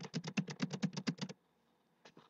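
Quick bursts of typing on a computer keyboard while entering spreadsheet values, a rhythmic run of about a dozen close, crisp key clicks, then a pause and two final taps.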